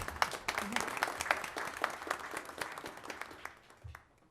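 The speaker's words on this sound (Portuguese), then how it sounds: "Vamos, então, palmas, né, gente?" An audience at a federal justice council session claps in a brief, fairly sparse round of applause, individual claps distinct and moderately distant, tapering off after about four seconds.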